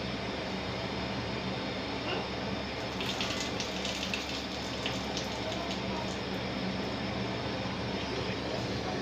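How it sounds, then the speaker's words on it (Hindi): Soaked rice poured into a pot of boiling water while making sweet zarda rice, a steady rushing, bubbling pour that fills the whole stretch, fairly close and loud with no voices. "सारे चावल मैं इसमें डाल दूंगी।"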